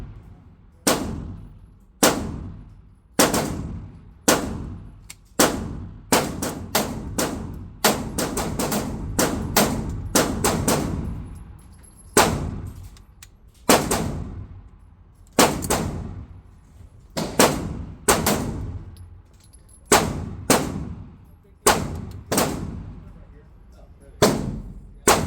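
Pistol shots from an LFA Apollo 11 2011-style pistol firing 124 grain ammunition at an accuracy test, a long series of sharp, loud reports in uneven clusters with brief pauses, some fired in quick strings.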